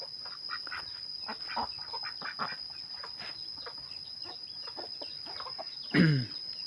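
Chickens and ducks at a village farm cluck and peck in quick, scattered calls close by, and a single loud duck quack stands out near the end.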